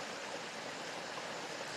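Water of the Tchamba river in New Caledonia streams steadily past, a continuous broadband rush with no voices, close and even throughout.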